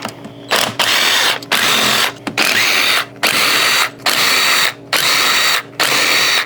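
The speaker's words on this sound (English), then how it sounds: "Let's get to pulling off all these little bolts." A powered ratchet spins bolts out of a CFMOTO engine during teardown, in a rapid series of loud, close, whirring bursts, about seven in a row separated by short pauses.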